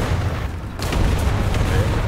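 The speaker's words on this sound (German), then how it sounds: "was ist denn das mit dem Artilleriefeuer hier?" Heavy artillery fire in the tank game War Thunder, a continuous loud low rumble of booms and blasts with sharper cracks standing out, dense and close throughout.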